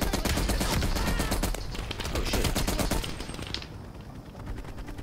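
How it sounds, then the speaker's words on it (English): Rapid M60 machine gun bursts fired from the hip in Call of Duty Black Ops Cold War, a dense, loud, continuous rattle of shots that thins and fades toward the end. "M60 back. Hip fire!"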